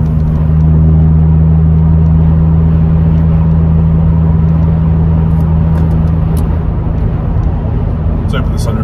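Steady, droning engine hum from inside a 2005 Ford Fiesta ST with a 2-litre engine, cruising at about 50 mph in fifth gear near 2,500 rpm; continuous and loud with road noise.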